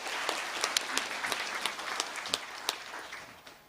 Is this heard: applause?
yes